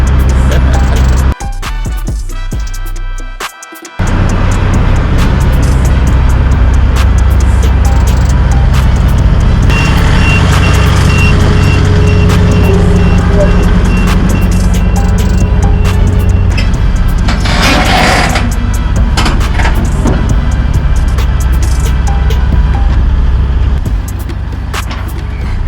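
A custom Peterbilt truck's engine cranks up and rumbles steadily and loudly up close as it rolls off a trailer, with a brief dip near the start and then a sustained heavy drone.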